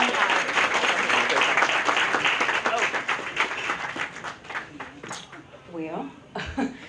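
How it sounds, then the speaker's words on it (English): At a holiday dinner and dance, an audience applauds an award winner, sustained clapping that thins out toward the end, with a cough and a voice emerging as it fades. "Let's give her another round of applause,"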